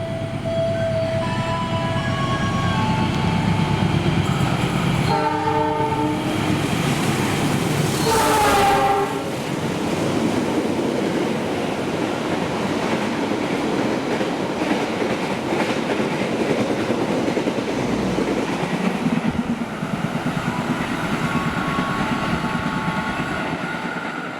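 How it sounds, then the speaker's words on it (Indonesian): Sembrani 39 passenger train rushing past at close range, a long loud roar of wheels on rails with a brief horn blast partway through, then a steady rumble fading slightly. "Berikutnya melintas kereta api Sembrani 39"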